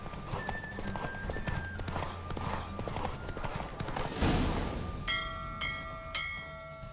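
A horse gallops in a race in The Witcher 3, its rapid hoofbeats close and steady, followed by a bright ringing bell and chime-like tones near the end.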